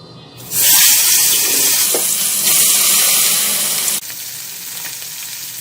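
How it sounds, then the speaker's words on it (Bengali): Pieces of fish marinated in salt, chili and turmeric drop into hot oil in a pan with a loud, steady broadband sizzle that continues for several seconds, then falls to a quieter frying hiss near the end. "এখন আমি লবণ মরিচ হলুদ দিয়ে মেখে রাখা মাছগুলো প্রথমে ভেজে নেব।"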